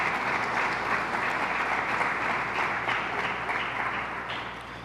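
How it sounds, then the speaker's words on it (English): Crowd at a governor's public event in Rochester applauds community-based organizations: sustained, even clapping filling the room, tapering slightly toward the end. "A round of applause for all the community-based organizations."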